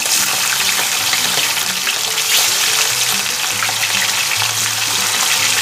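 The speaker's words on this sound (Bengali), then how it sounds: "তেলটা গরম হবে, তারপরে মাছগুলোকে আমি হালকা লাল করে ভেজে নেব।" Rohu fish pieces rubbed with salt and turmeric sizzle in hot mustard oil, giving a steady, loud crackling hiss heard up close and uninterrupted.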